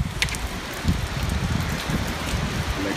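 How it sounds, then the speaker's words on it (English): Heavy monsoon rain pours down in Mumbai, a dense, steady roar of water close by at a window, loud and unbroken with no voices. "I haven't heard this kind of ferocious rain in years."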